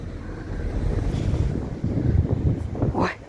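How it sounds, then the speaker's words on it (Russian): Gusty wind buffets the microphone outdoors at a residential construction site, a steady low rumble that swells and drops, with a brief rising vocal exclamation near the end. "Да, ветер сегодня, конечно же."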